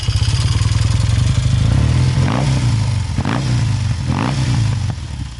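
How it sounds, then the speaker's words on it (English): A 1967 Triumph Tiger T100R Daytona 500 motorcycle engine idles with a steady, throaty exhaust burble, then blips the throttle a few times with brief revs rising and falling, close up. "listen to the exhaust note on this thing"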